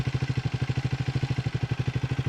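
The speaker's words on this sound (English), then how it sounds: "the engine's not the quietest, is it?" A Triumph Speed 400 motorcycle engine idles with a fast, even thumping pulse and a mechanical clatter over it, close by and steady.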